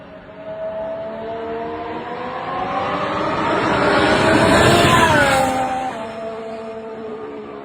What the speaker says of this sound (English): I think you can hear the electric motor whirring a lot louder than it did before.